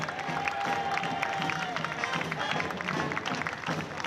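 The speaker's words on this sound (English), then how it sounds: "How about a nice round of applause" A crowd applauds and cheers steadily in a large outdoor space at a mascot hall of fame induction ceremony in Whiting, Indiana, with marching band music and voices mixed into the dense, continuous noise.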